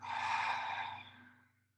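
A single slow exhale during a guided breathing exercise, a close, breathy rush of air that swells and then fades away over about a second and a half, with no talking.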